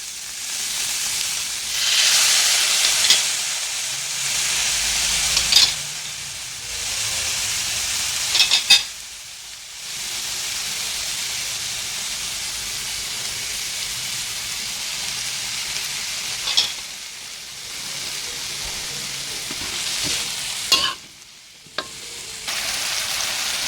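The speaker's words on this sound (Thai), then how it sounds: "เราจะผัดเครื่องเขาก่อนนะคะ แล้วเราค่อยเอาปลาลงค่ะ" Seasoning ingredients with oyster sauce are stir-fried in a wok for a tilapia and celery dish. A loud, close sizzle is broken by repeated bursts of scraping and stirring over about twenty seconds, with no talking.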